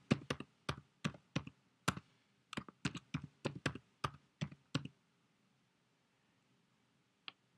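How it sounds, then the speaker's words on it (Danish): Someone types a password on a computer keyboard, giving about fifteen crisp key clicks in an irregular run of roughly five seconds, then quiet and one last isolated tap. "Skriv den adgangskode, du har fået. Skriv en ny adgangskode."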